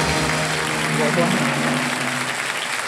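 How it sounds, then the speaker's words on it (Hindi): Studio audience applause on a television quiz show after a correct answer, loud continuous clapping that fills the room, with a host's voice speaking briefly over it. "ताली पहले बजे भाई साहब"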